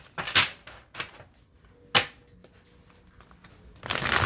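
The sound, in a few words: shuffling tarot cards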